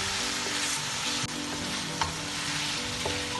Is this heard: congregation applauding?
no